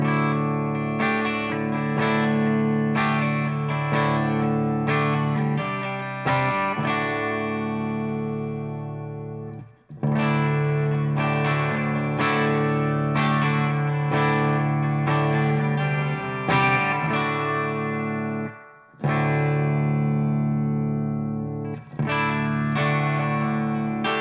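An electric guitar played through a 5150 Iconic 40-watt tube combo amp rings out in sustained distorted chords and riffs, loud and steady with brief pauses between phrases, and no talking.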